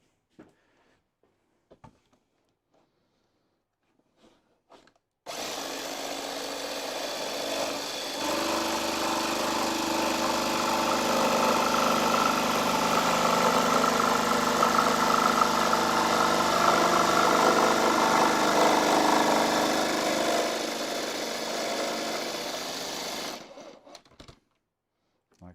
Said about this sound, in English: Now I'm going to cut with the jigsaw.